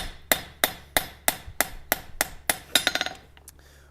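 A hammer planishing forged blacksmith tongs, ringing sharp strikes in a steady rhythm of about eleven blows, then a quick flurry of lighter taps and a couple of final hits, close and clear.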